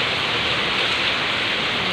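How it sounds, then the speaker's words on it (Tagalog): Heavy typhoon rain pours down in Manila, a dense, steady roar of water hitting surfaces that holds at an even, loud level throughout with no voices. "Sa lakas ng ulan dito."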